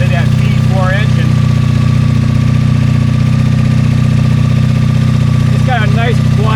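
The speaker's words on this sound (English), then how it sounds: "Kind of listen to that V4 engine." A V4 motorcycle engine idles close and loud, a steady low throbbing hum, with brief faint voice-like sounds over it near the start and end.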